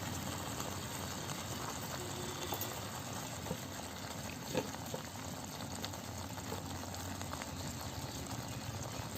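A pan of thick spiced masala liquid with mashed potato, for dabeli, bubbling and simmering steadily, with soft continuous popping and hissing, close by and no talking.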